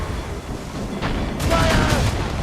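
Ship cannon fire in Assassin's Creed Rogue during a sea battle, a loud burst of booming shots in the second half over a steady rumble of waves and battle, with a voice speaking at times.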